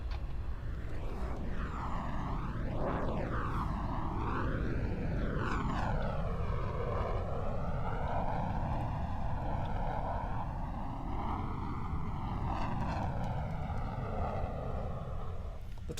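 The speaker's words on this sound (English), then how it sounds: "Typhoon is such an angular aircraft." A Eurofighter Typhoon jet roars loudly and continuously overhead at an air show, its sweeping, wavering engine tone rising and falling as it passes and maneuvers.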